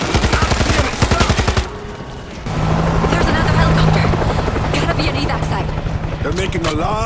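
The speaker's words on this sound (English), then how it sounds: "There's another helicopter." A helicopter flies overhead in the zombie apocalypse game World War Z, with loud, rapid rotor chopping and a steady engine drone. Sharp bursts that sound like gunfire break in at moments, and voices talk over it.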